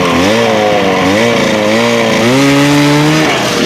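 A 1971 Ski-Doo Olympic snowmobile engine revving up close and loud, its two-stroke buzz rising and falling in pitch across several throttle blips before holding a higher steady note, with no voices over it.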